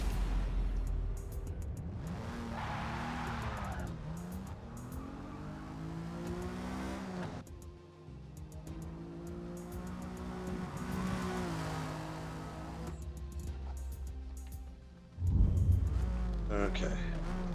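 A 1956 Jaguar D-Type lapping Lime Rock in Forza Motorsport, its engine droning and rising through gear changes with shifting pitch, loud and steady throughout, with a brief dip near the middle and a sharp roar near the end.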